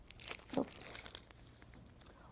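Paper tickets crinkle and rustle as they are shuffled by hand, a close, soft run of crumpling with one brief louder crunch and some faint background noise.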